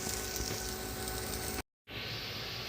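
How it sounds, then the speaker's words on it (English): Eggs sizzle in a hot pan with a steady, bright hiss that briefly drops out and then resumes. "My wife is cooking up some yumminess for this recipe. Hear it sizzling over there."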